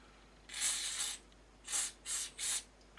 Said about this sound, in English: give everything a bit of a spray